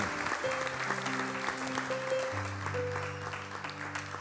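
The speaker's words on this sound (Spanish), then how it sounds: "Le da ese aplauso fuerte." A church congregation applauds, steady clapping heard under sustained organ or keyboard chords, moderately loud and continuous throughout.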